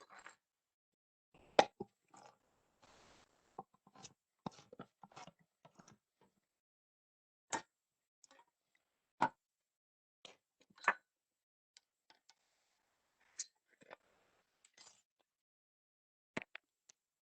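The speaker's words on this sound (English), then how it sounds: "So I'm opening the can now." A handheld can opener works around a can in a home kitchen during a Punjabi cooking demonstration, making scattered sharp clicks and small metallic pops with quiet gaps between them, close and fairly soft.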